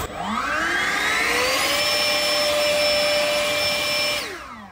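An EGO battery backpack leaf blower spools up to full power with a loud, rising whine and rushing air, holds a steady roar for a few seconds, then winds down at the end.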